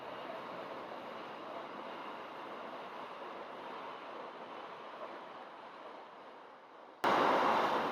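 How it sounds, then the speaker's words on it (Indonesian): A loud, steady rumble and roar of a passing train that holds for several seconds, then swells even louder at the end. "kita cut dulu karena ada kereta"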